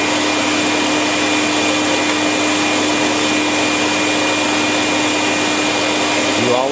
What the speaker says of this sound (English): You always start the DuMore Grinder off the part and allow it to feed onto the surface you're grinding.